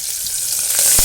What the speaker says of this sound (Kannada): ಬ್ರೌನ್ ಫ್ರೈ ಮಾಡ್ಕೊತಾ ಇದ್ದೀನಿ.